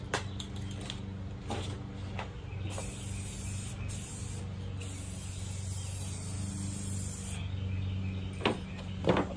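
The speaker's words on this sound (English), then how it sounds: "Let's show you guys exactly how I'm clear coating this." A spray can sprays clear coat onto a white car in one long, steady, close hiss with brief pauses between passes, and a faint hum underneath.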